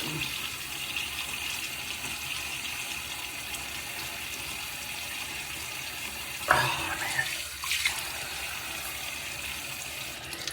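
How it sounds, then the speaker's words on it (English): A bathroom tap runs steadily while someone wets their face before a shave, with a few sharper splashes near the end as water is scooped and cupped. "let me wet my face real quickly"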